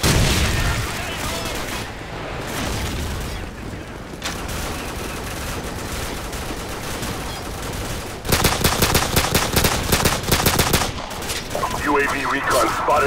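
Video game battle with gunfire and machine guns: dense rifle shots and rapid automatic bursts, loud and close, that grow more intense partway through, with shouted voices mixed in.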